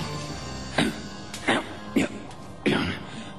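A cartoon character clearing his throat, four short harsh coughing bursts spaced about half a second apart over a low background hum.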